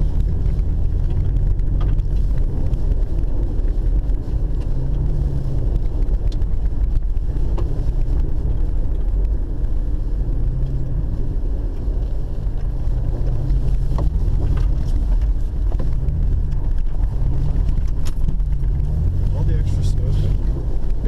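Cars racing on an ice track: a dense, continuous engine roar heard from inside a car, buffeted by wind rumble with occasional clicks, loud and sustained for about twenty seconds.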